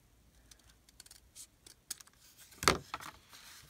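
Scissors make a single crisp snip through a small piece of journal paper, a sharp close click near the end, preceded by faint scattered rustles and light handling noises in a quiet room.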